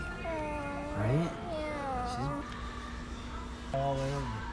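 Black cats up for adoption meow repeatedly indoors, a few drawn-out meows close by with soft background noise and a voice speaking between them.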